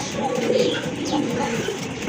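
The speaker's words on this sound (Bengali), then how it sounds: "আরেক জোড়া কবুতর গোল্লা কবুতর, দেশি কবুতর" Domestic pigeons, a pair of round local birds kept for breeding, coo softly and repeatedly at close range, with steady low bird murmuring throughout and no talk.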